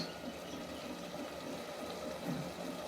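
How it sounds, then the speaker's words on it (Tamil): Water pours steadily into a pot of rice with spices for tomato rice, a continuous splashing rush heard up close without speech. "இப்போ தண்ணி ஊற்றிடுவோம்."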